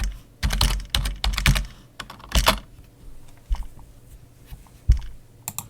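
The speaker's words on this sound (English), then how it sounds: "So I'm going to type in my website name" Typing on a computer keyboard while logging into a WordPress website comes as close, clattering bursts of keystrokes with short pauses between them.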